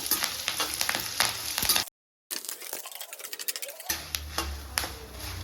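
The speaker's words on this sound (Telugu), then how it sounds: "కొద్దిగంత కరివేపాకు అన్నీ వేసుకొని బాగా ఫ్రై చేయాలి." Curry leaves frying in hot oil in a pan for moringa leaf chutney, a steady close sizzle with crackling pops, broken by a brief silent gap before the frying resumes.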